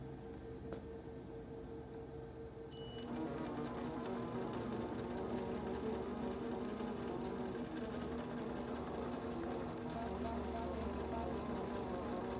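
An Intelliquilter computerized quilting machine stitching at a slowed speed with large stitches, a steady mechanical hum and rapid needle rhythm that grows louder after a quieter start and runs continuously, moderately close.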